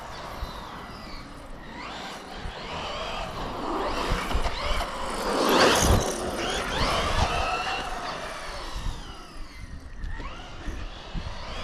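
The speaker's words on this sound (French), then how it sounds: "Là ce que je veux faire c'est provoquer un peu le moteur." The small motor of an MJX Hyper Go 10208 RC car whines and revs up sharply, its pitch climbing to a peak midway before dropping and surging again, fairly close.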